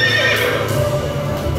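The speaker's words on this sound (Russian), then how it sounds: "Это лошадь." A horse whinnies during a live cosplay stage performance. The neigh is loud, near and shrill, with a falling, wavering call lasting over a second against a busy background.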